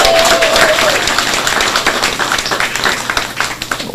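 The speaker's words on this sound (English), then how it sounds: "Give him a round of applause." Crowd applause for the leader of a Grenada political party, dense and loud clapping that slowly tapers, with some background voices mixed in.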